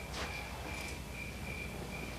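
Crickets chirp steadily in a quiet outdoor setting at night, a thin continuous trill running faint and unbroken throughout, with a soft rustle near the start.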